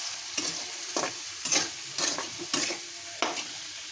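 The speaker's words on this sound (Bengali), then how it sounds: "আমি এখানে নিয়ে নিয়েছি পেঁয়াজ, আর যে চিংড়ি মাছ জাল দিয়েছি এই কড়াইতে আমি এখন তরকারিটা রান্না করবো" Prawns and onions frying in a kadai for prawn dopiyaza, stirred in about six distinct scraping strokes over a soft sizzle, close and fairly quiet.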